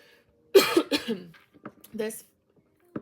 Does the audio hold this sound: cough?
yes